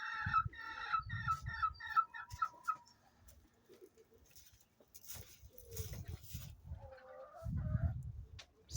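A pet chicken calls with a series of short, rapid, rhythmic high cries early on, sounding more like a seagull than a hen, then gives lower scattered clucks and calls, all fairly close and with no talking.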